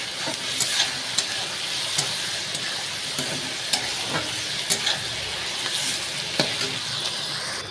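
Onions and green chillies fry in a pan for chicken butter masala curry, a steady close sizzle broken by repeated sharp scrapes and taps of a stirring spoon, with no talking.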